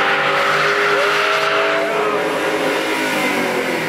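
A Dodge Hellcat accelerates hard leaving a car show, its loud engine roaring steadily while the tires squeal and skid continuously close by.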